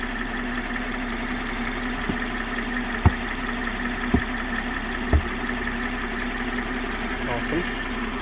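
A Toyota Supra engine idles steadily after an oil change, a constant low hum running through the whole stretch with a few brief clicks and knocks over it.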